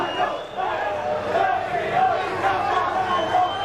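Vasco supporters roar and chant in a stadium after the Copa Mercosul 2000 final against Palmeiras, a dense, sustained crowd din with rising and falling chanting voices.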